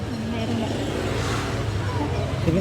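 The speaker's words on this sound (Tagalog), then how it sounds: "Andiyan na, may tricycle na." A motorized tricycle draws near with a low, steady engine drone that rises slightly at the end, heard beneath people talking.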